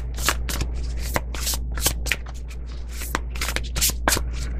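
Tarot cards are shuffled by hand in quick repeated riffling bursts, crisp and close, with a steady low hum underneath and no talking.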